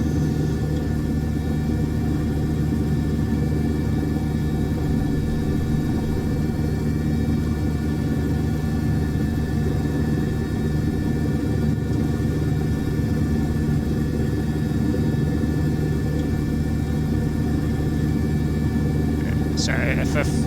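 A helicopter flying in Microsoft Flight Simulator 2020, a continuous low rotor and engine drone that stays steady and loud throughout while a person talks over it.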